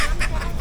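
Short, busy burst of duck quacking with a harsh nasal call standing out, set against a noisy crowded background at a village poultry and fish market.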